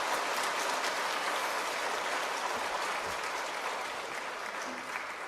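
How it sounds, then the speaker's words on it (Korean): Audience applause at a church book concert, a dense sustained clapping from a crowd that stays loud and even throughout with no talk. "두 분께 뜨거운 박수 부탁드립니다."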